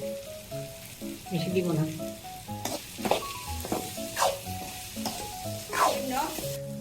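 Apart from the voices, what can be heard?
green chili pieces frying with cauliflower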